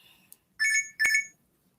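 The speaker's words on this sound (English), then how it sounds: "Sorry, my alarm, y'all." Two short electronic alarm beeps in quick succession, bright and tonal, each lasting about a quarter second, clear against a quiet room with no talking.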